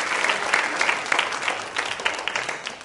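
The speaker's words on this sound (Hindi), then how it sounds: "आप डॉक्टर साहब के लिए तालियां बजाइए" Sustained applause from a studio audience at a Ramadan-special quiz show, dense overlapping claps held steadily through the whole stretch with no talking.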